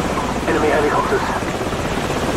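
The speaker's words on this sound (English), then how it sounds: "Enemy helicopters." Enemy helicopters in the video game Call of Duty: Modern Warfare give a steady, loud rotor and engine drone that fills the whole moment, with a voice speaking over it.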